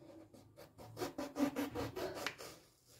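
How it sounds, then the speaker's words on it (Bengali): A knife slices brinjal (eggplant) into round pieces on a board, giving a quick run of close, soft scraping cuts in an uneven rhythm that fades toward the end. "প্রথমে আমি বেগুন এইভাবে চাকা চাকা করে কেটে নেব।"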